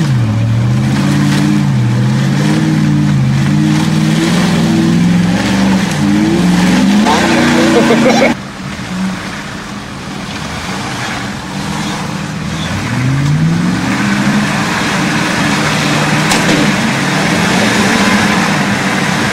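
Hummers in mud, heard as a loud, steady engine drone with shifting revs that dips briefly mid-way and then climbs again, close by, with voices talking over it.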